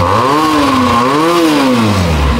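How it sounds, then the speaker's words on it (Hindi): A 300cc inline-two mini superbike engine revs hard, its loud, close exhaust note rising and falling smoothly through a single sweep with no talk over it. "साउंड भी सुना दो ना फिर मिनी सुपर बाइक की"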